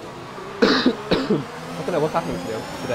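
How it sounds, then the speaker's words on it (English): A person coughs sharply twice during a sim racing broadcast, then keeps talking afterward. "As I still need to cough."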